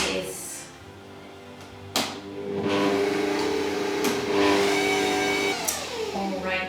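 Electric mixer creaming butter and sugar for chocolate chip cookie dough, a steady whirring motor drone with brief bursts as the beaters shift, close and loud, with a voice talking faintly over it.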